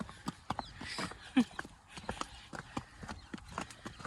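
Unshod barefoot horse hooves clop on a hard surface in an irregular walking rhythm, close and fairly crisp, with a few louder strikes over a quiet background.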